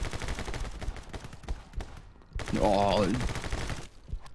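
Bursts of gunfire in the action game My Friend Pedro, fairly loud and dense, with a whooshing effect in the middle and a player's voice now and then.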